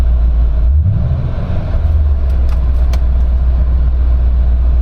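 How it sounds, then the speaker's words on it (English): A 2017 Ford F-150 Black Ops pickup's engine gets a light blip of throttle, its deep exhaust rumble swelling briefly from a steady idle and then settling, loud and close, with no talking. "Let's give it a little gas. Nice exhaust."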